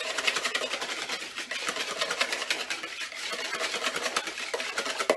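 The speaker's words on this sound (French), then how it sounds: "Je vais la mélanger à ma crème pâtissière, un petit fouet comme ceci." A small whisk works meringue into pastry cream for a soufflé, giving a fast, continuous scraping and clicking against the bowl in quick regular strokes, close and steady with no talk.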